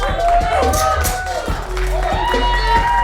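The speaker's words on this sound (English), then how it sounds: "the crowd rallies behind Simone as she makes her way out of the ring" A wrestling crowd cheers and shouts continuously for Simone after a match, a loud sustained roar with whoops and scattered claps, mixed with an announcer-style voice talking over it.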